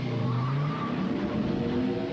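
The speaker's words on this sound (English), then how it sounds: "there's the new Yamaha Phaser. With its 700cc Genesis engine, nitrogen-charged suspension, and distinctively low profile" A Yamaha Phaser snowmobile with a 700cc Genesis engine revs up, its pitch rising and falling in a steady, close, continuous engine note over about two seconds.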